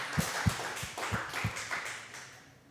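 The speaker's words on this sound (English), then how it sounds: "Can we give them a clap?" A small audience claps for a few seconds, with scattered individual claps at first that blend into a brief, fading round of applause.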